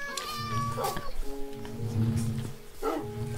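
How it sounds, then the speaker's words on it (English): Cats meow in the Minecraft video game, several short, high, tonal calls in a row with game music or ambience underneath and brief breaths of talk between them. "Ooh, there's cats as well."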